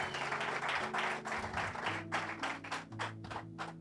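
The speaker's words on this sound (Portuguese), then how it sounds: "Aplauda o Senhor." Church congregation claps during a sermon, a busy wash of applause over sustained organ or keyboard chords, with clapping thinning out toward the end.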